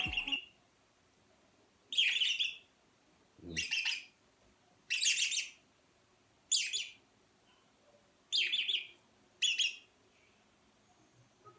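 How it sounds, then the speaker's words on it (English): A male red-rumped parrot sings about seven separate warbling, whistled phrases at a relaxed, even pace. Each phrase lasts under a second and is clear and moderately close, with quiet pauses in between. "الذكر هذا تنطلق ليه الموسيقى ديال النغمه ديال الحسون ولا العندليب"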